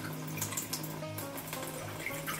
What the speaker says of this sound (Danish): Så jeg vil starte med at tage 3 dl lunken vand i den her skål.